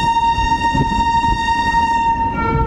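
A train horn blares steadily and loudly over the low rumble and clatter of a train running, with no voices.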